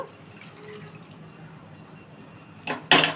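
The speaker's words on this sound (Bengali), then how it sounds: "তারপরে আমি ওতে গরম জল দেবো একটুখানি অল্প করে" A little hot water splashes into dal frying with spices in a pan, a brief, close hissing pour bursting in near the end after quiet kitchen background.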